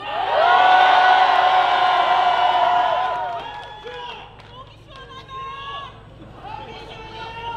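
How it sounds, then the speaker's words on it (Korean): At a political rally in Andong, a crowd lets out a loud, sustained shout together for about three seconds, then scattered voices, whoops and cheering continue more loosely at a lower level. "함성만 질러주세요"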